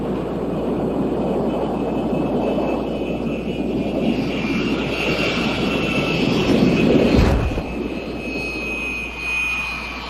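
A high-altitude spy plane drones overhead in a steady, loud engine roar with a thin sustained whine, swelling briefly midway before easing off.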